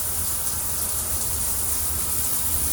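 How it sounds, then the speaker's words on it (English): Water from a rain shower head in a cruise ship cabin bathroom on the Celebrity Apex, turned on lightly, pours as an even, close hiss that holds steady throughout, with no voices. "I'm going to turn it on lightly, and that function is the rain."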